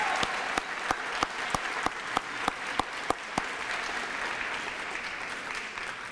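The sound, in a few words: applause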